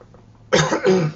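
An elderly woman coughs nearby, one short burst followed by a second harsh cough, both loud and close, with no talk over them.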